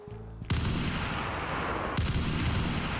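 Gunfire in the Turkish zombie video game Zombi Efem, two loud sharp blasts a second and a half apart, each followed by a dense ringing roar that fills the clip.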